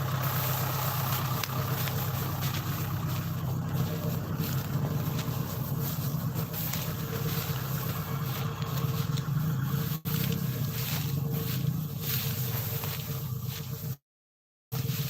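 A motorcycle engine idles with a steady low drone for a long stretch, cutting out abruptly near the end.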